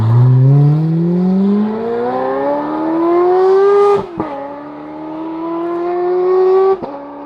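A Ferrari 430 Scuderia pulls away hard in first gear with a loud, close engine whose tone climbs steeply, then breaks sharply at an upshift around four seconds and rises again before a second sharp shift near the end; no talking.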